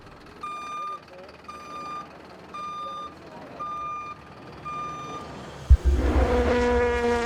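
A tow truck at the 24 Hours of Le Mans sounds a series of regular reversing beeps, then a thud and a loud engine rev as a race car roars in, with speech underneath.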